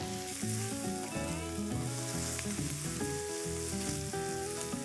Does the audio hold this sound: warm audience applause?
no